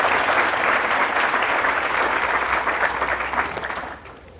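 An audience claps after a poetry reading at Ball State University, a loud, dense wash of applause that holds steady for several seconds and then begins to thin and fade toward the end.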